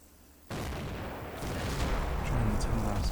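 Artillery barrage in the Combat Mission war game: a sudden loud onset of continuous rumbling fire that grows heavier over a few seconds, with dense overlapping booms and crackle.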